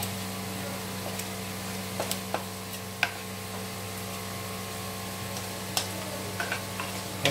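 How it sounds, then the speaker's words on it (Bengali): A spoon stirring a dish in a pan over a low flame, with soft, irregular clicks and scrapes against the metal over a faint, steady sizzle. "পুরোটাই লো ফ্লেমে আমি এটাকে মেশাচ্ছি"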